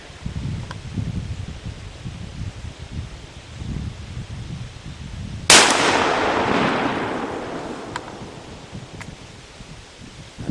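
A single loud shotgun blast from a Mossberg 930 firing 15-pellet buckshot outdoors, one sudden crack with a long fading echo, set against a steady background of wind and rustling.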